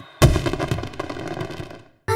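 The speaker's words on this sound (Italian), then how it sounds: "I fuochi d'artificio sono una cosa da Bing. Ma solo se non fanno rumore" Fireworks in a Bing cartoon go off in a rapid crackling barrage of bangs, a loud burst that fades out before one more sudden blast at the end.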